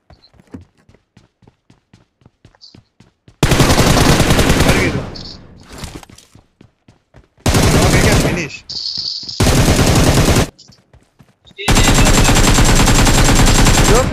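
Bursts of automatic rifle fire from M762 and M416 guns in a mobile battle-royale shooter, loud, dense rapid volleys in four long strings separated by quieter gaps with faint footstep-like ticks.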